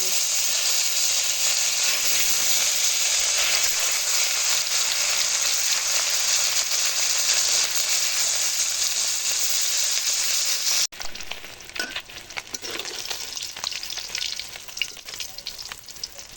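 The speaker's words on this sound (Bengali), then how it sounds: "কড়াইয়ে তেল দিয়ে দিয়েছিলাম তো তেলও গরম হয়ে এসে গেছে এখন মাছগুলো ভেজে" Fish frying in hot oil in a wok gives a dense, continuous, loud sizzle. Partway through, the sound drops and turns patchier and more crackly as the frying carries on.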